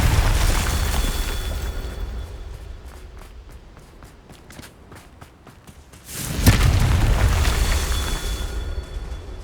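A Confringo fire spell going off in the video game Hogwarts Legacy, a sudden deep boom with a rumbling tail following a stretch of quieter rhythmic footsteps.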